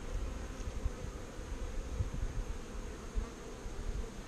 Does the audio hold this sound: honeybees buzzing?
yes